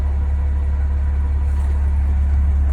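A truck idling during a pretrip inspection, with a steady low engine rumble and a constant mechanical drone attributed to a lack of grease, loud and unbroken without talk.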